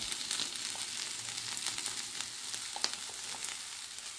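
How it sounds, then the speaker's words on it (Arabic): Leftover meat fries in a pan for homemade shawarma as spices are added, giving a steady close sizzle with faint crackles and no talking. "كده نزلت بقى باللحمه كلها، هنزل بقى بالبهارات اهي"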